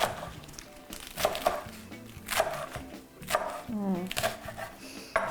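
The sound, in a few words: knife cutting food lengthwise in halves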